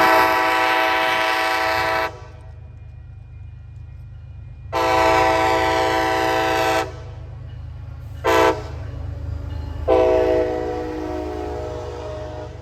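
A loud horn on an outbound commuter rail locomotive blares nearby in two long blasts, a short toot and a final long blast, over a low engine rumble.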